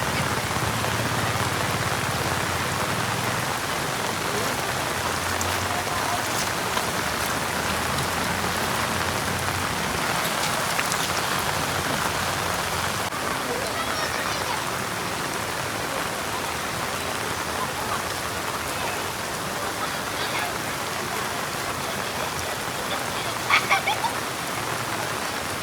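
Heavy downpour on the third day of continuous rain over flooded farm fields, a steady dense hiss of rain striking surfaces for the whole stretch, close and loud with no talk over it.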